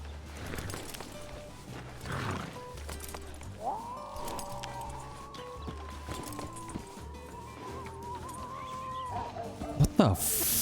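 Horse in the Western game Red Dead Redemption 2, with soft hoof clip-clops over a game soundscape and a drawn-out tonal call near the middle, ending in a sharp burst.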